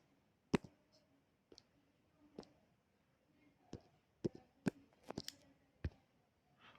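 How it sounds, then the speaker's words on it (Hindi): Mouse clicks select an answer option during an on-screen general science quiz, with about ten sharp, separate clicks spread irregularly across several seconds against a quiet background and no talking. "तो इसके लिए हम जो है दूसरे ऑप्शन पे क्लिक करेंगे"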